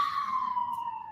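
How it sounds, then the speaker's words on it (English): A siren wails outside, its tone slowly falling as it passes, moderately loud against an otherwise quiet background. "sorry about the sirens."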